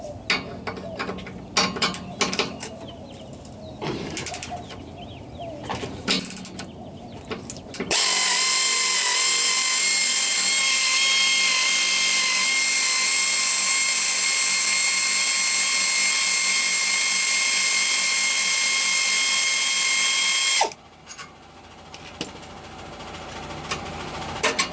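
A pneumatic or power ratchet tool runs in a long continuous whine, close and loud, while the exhaust clamp comes off the back pipe of a 2010 Toyota Tundra 5.7, with shorter bursts of clicking and clanking before and after.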